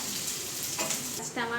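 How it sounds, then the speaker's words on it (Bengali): Chopped onion dropped into hot oil gives a steady, close, dense sizzle that holds without a break for just over a second and a half. "এবার আমি তেলের মধ্যে পেঁয়াজটাকে ছেড়ে দিচ্ছি।"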